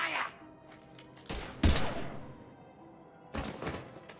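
Gunfire in the video game Mass Effect 3, several sharp shots and thuds bursting out at intervals among quieter stretches, with a short voice at the start.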